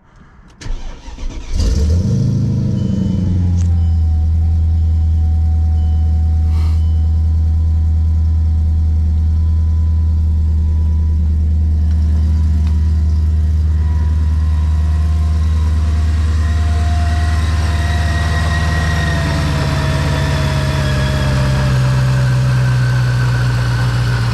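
A car engine cranks briefly, catches, and settles into a loud, steady idle close by that runs on with no talking.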